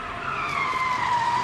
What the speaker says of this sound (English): That's a car.